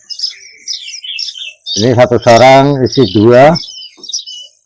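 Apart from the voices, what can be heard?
young kacer air (magpie robin) birds chirping at bird shop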